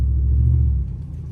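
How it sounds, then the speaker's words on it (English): Deep, loud exhaust rumble from a nearby 2008 Ford F-150 pickup with a 5.4 Triton engine and deleted muffler, steady and throaty, easing slightly toward the end. "you can hear that muffler"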